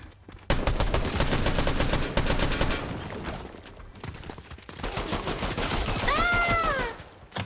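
Fortnite weapon gunfire, dense rapid automatic bursts fired close and loud, pausing briefly and resuming, with a high yelping vocal cry near the end.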